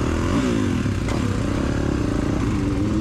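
A supercross motorcycle at Anaheim drones steadily up close, with a clattering, scraping undertone and no voices.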